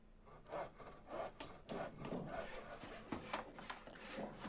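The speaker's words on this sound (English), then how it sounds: "I thought that was Torgal panting there for a second, rather than a saw." A saw cuts through wood in the Final Fantasy 16 video game: rhythmic, rasping back-and-forth strokes, about seven in a steady pulse, quiet and close.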